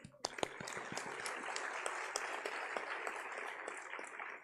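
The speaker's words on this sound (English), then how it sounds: "Each and every effort put in by the participant deserves a huge round of applause." Audience applause at an international conference in Kanpur, a light, fairly distant patter of many hands with a few sharper individual claps standing out, continuing steadily throughout.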